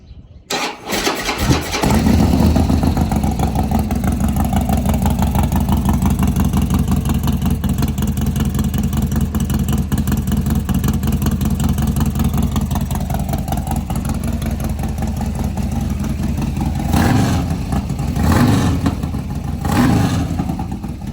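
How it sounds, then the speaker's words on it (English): A twin cam Harley-Davidson with a Bassani shorty exhaust is cold-started: a brief crank catches within two seconds into a loud, steady, deep lumpy idle. The idle holds close and unbroken, with a few quick blips near the end. "So we're gonna do a little cold start on the Bassani before I pull it off"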